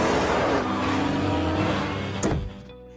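Cars in a street race in a film scene, a loud continuous engine roar with a sharp rising whoosh near the end before it drops away abruptly into quiet.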